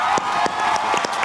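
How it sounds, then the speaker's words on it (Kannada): A Bigg Boss 12 studio audience applauds a contestant, with steady clapping, a few sharper individual claps and a faint crowd murmur underneath. "ಈಗ ನಿಮಗೆ ನೀವು ಚಪ್ಪಾಳೆ ತಡ್ಕೋತೀರ"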